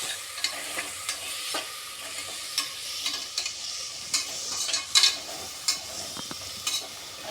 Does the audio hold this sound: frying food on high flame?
yes